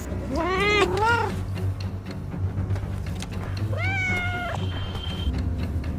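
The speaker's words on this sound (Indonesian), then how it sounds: "ia pun teralihkan dengan suara kucing" A cat meows twice close by, one drawn-out cry early and another rising, wavering meow a few seconds later, over a low background hum.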